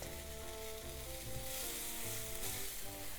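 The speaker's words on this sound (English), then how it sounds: "I saute them for about 3 minutes and it's nicely burned." Edamame sautéing in a hot pan for a chili garlic dish, a steady close sizzle with soft crackles throughout, alone without voices.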